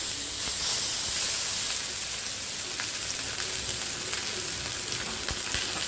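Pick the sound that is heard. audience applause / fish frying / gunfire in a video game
fish frying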